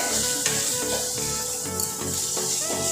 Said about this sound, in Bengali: মশলার পুরো জলটা কিন্তু শুকিয়ে গেছে এবং নিচে কিন্তু তেল ছাড়তে শুরু করে দিয়েছে